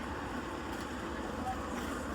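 Steady roar of street traffic at the Esplanade bus stop in Kolkata on a morning, a dense continuous wash of engines and road noise with no clear single vehicle standing out.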